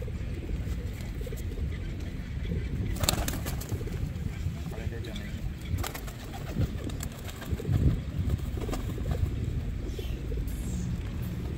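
Birds coo and call intermittently over background noise, with a few sharp clicks and faint human sounds nearby.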